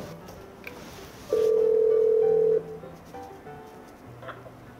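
A kiosk intercom call button rings through to a control room. One steady electronic tone sounds for about a second, close and clear over low room hum, and then cuts off.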